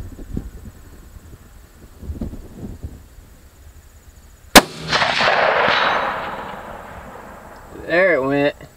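A single sharp rifle shot from a 6.5 Creedmoor Ruger Predator fired outdoors at a 300-yard target, loud and abrupt, followed by a long rolling echo and wind noise, with quiet talk before it and a distant ring near the end.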